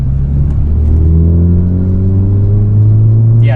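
A Ford Focus ST with an aftermarket catback exhaust revs loudly and close by. Its deep, booming engine note climbs steadily in pitch through the rev before easing off.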